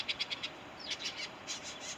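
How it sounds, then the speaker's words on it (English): Small birds chirp outdoors on a sunny day, a string of short, bright tweets arriving in quick bursts, clearly heard over faint background ambience. "the birds are chirping"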